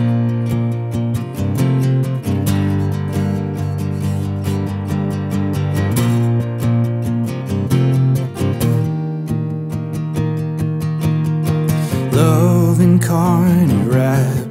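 Guitar strumming a repeating 1-5-4 chord progression for a worship song intro and verse, steady and full, played alone without singing.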